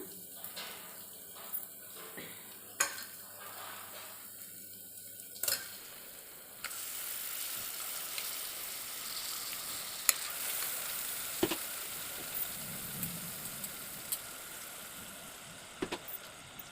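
Mutton chunks frying in hot oil with ginger-garlic paste for a pressure-cooker mutton curry, a steady sizzle that swells loudly as the meat goes in, with a spoon scraping and stirring in occasional sharp clicks.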